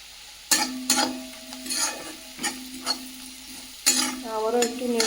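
Fried onion with turmeric powder stirred in a hot pan, a spatula scraping in several distinct strokes over a steady sizzle, close and fairly loud.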